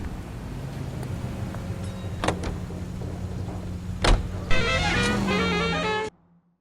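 A car in the video game L.A. Noire drives with a steady low engine rumble, broken by a few sharp door-like knocks, then a rising whine before the sound cuts out abruptly.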